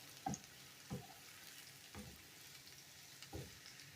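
Grated carrot frying in a pan for bean soup, giving a steady low sizzle with four soft stirring scrapes spaced about a second apart, close and moderately quiet, with no voices.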